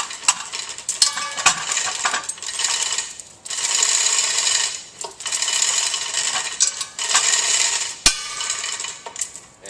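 A motor is removed from the motor stool of a Grundfos CR10 pump, with bursts of metallic ratcheting and clanking alternating with brief pauses, close up and without speech.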